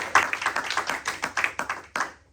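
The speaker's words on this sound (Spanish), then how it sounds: "Denle un aplauso a Cristo." A church congregation applauding at a Spanish-language service, a brief burst of scattered hand claps close by that fades out after about two seconds.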